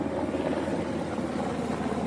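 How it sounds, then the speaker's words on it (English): Firefighting helicopter flying over a wildfire near Los Angeles, a steady close rotor and engine drone that fills the whole stretch with little change in level, with faint talk beneath. "Here's another chopper right here."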